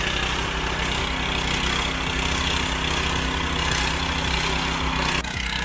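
Firman FTL 620 cultivator ploughing a rice field, its engine running steadily and loud throughout with a constant low throb, no voices.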